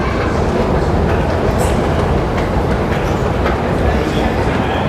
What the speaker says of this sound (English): The trains are narrow-bodied on the tube and a little bit wider on the overground network